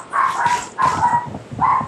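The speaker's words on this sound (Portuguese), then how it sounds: "Será que dá pra calar a boca desse cachorro peludo?" A dog in the Minecraft video game barks three times in quick succession, clear and fairly loud, each bark a short yelping burst.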